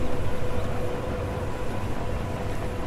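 Steady rumbling drone from a locomotive in Trainz Railroad Simulator 2019, a continuous low mechanical roar with a slight pulsing texture, loud and unbroken with no speech.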